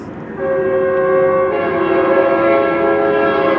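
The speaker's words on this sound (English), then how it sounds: "now it sounds like multiple trains" A Union Pacific train horn sounds loud and close, a sustained multi-tone blare that swells after a moment and holds steady over the rumble of passing rail cars.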